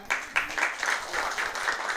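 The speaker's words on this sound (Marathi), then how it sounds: "सर्वांसाठी जोरदार टाळ्या" Audience at a Marathi award ceremony applauds with a brief burst of crowd clapping, a moderately faint, even patter of many hands lasting about two seconds.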